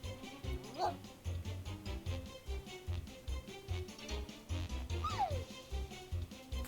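Several dogs bark and yip in an audio drama scene, scattered barks and a whimpering whine in a busy, moderately distant mix with voices mingled in.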